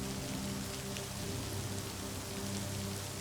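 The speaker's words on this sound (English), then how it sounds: "You are left with the clearing white noise of the rain to soothe you into sleep." Steady rain pours down in an even hiss, a constant wash of drops on a surface with no voices or pauses.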